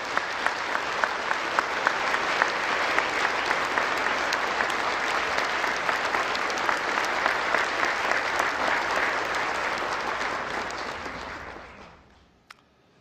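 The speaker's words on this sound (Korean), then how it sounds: "윤석열 대통령 뜨거운 박수 부탁드립니다" A large audience at a national prayer breakfast gives sustained, dense applause for the president, loud and even for about eleven seconds before fading out quickly.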